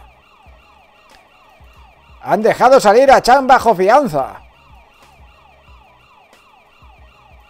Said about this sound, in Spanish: ¿Puedes desactivar la sirena?